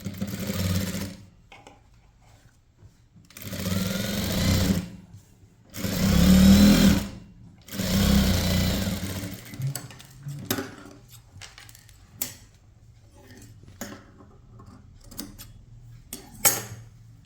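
A sewing machine topstitches a blouse in four separate runs of a few seconds each, whirring close by, followed by scattered clicks and taps as the fabric is handled.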